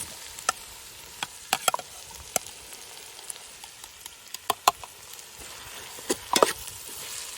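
Onion, garlic, ginger and green chilli sautéing in a pan for village-style chicken biryani: a soft steady sizzle broken by scattered sharp clicks and scrapes of a spoon stirring against the pan.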